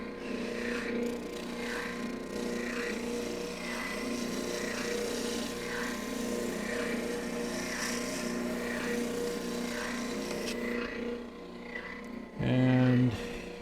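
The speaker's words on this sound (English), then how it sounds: "I'm going to move over to the oscillating spindle sander." Oscillating spindle sander working a bent wood piece in a workshop, a steady motor hum with evenly spaced rhythmic pulses and a short tonal blip near the end.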